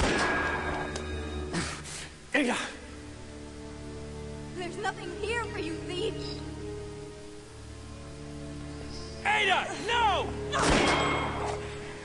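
Gunfire in the video game Resident Evil: The Darkside Chronicles, scattered shots and bursts over a busy game soundtrack with a voice talking now and then.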